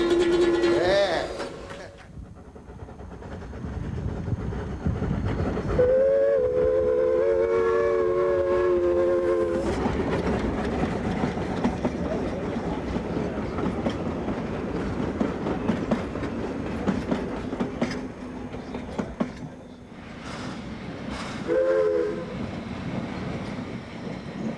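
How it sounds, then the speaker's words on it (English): A sugarcane train on Maui, Hawaii rumbles steadily with rhythmic clatter, and a whistle sounds a few times; people talk now and then over the running noise. "the sugarcane train pulls into the old whaling town of Lahaina"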